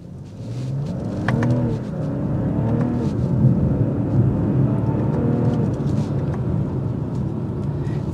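A 2023 BMW 540i in Sport Plus pulls away from a red light, its engine rising loudly and steadily through the revs, heard from inside the car over several seconds with no talk.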